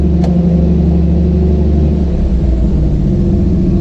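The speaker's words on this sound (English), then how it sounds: "The motor in this truck runs excellent." A truck's engine runs with a loud, steady low rumble, revving slightly and settling back, close up with no talking.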